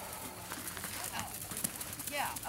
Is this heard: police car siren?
no